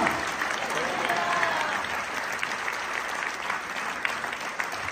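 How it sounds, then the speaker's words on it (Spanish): A church congregation at a healing and deliverance service breaks into loud, sustained applause: a dense, continuous wash of clapping with faint voices mixed in. "Fuertes aplausos de reyes y señores"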